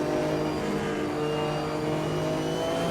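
A race car engine in the Automobilista 2 sim racing game drones at high revs, loud and continuous with a steady pitch, no voices.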